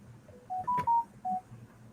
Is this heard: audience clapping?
no